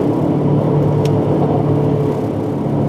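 A 2017 Mercedes-Benz GLE 450 AMG drives along with its engine and exhaust giving a steady, fairly loud low rumble. The sound has an even cabin drone and no sharp revving.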